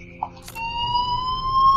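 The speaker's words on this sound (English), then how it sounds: "Oh man, listen to that alarm." An alarm in Life is Strange starts abruptly after a brief click and then holds a loud, steady electronic tone that rises gently in pitch.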